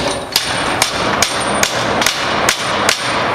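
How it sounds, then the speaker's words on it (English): A hammer strikes a flathead screwdriver, driving it into a door jamb to set a forcible-entry prop: seven sharp, evenly spaced metallic taps, close and loud, over a steady background hum. "we're just going to strike this in with our flathead."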